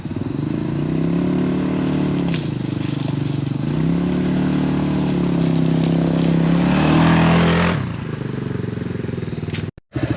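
A HammerHead 250cc go kart engine runs steadily nearby with a loud, buzzing idle and small rises in pitch, then cuts out abruptly near the end.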